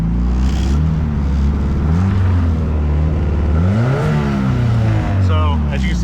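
A Mazda Miata engine running after an ECU upgrade, idling loudly and rising and falling in a few revs, close up, with someone talking over it.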